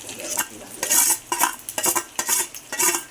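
Stuffed eggplants frying in a pan are stirred with a metal utensil, giving repeated clanking scrapes against the pan in an uneven rhythm over a low sizzle, close and loud, with no voices.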